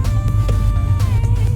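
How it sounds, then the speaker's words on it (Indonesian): Exhaust roar from a 2013 Porsche Panamera, a deep, loud, steady engine drone with rising and falling tonal harmonics, sustained close by without talk. "suara exhaustnya sudah menggugah selera sekali, seperti meraung-raung minta diajak ngebut gitu"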